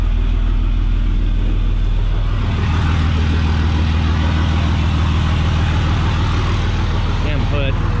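A straight-piped Cummins diesel truck engine rumbles loud and close just after a cold start, a heavy idle that steadies into a pulsing throb with a brief rev, while someone talks over it.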